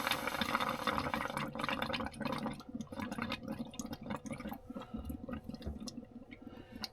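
Water running from a tap in a motorhome kitchen, a steady close splashing flow with gurgling that thins toward the end, no talk over it.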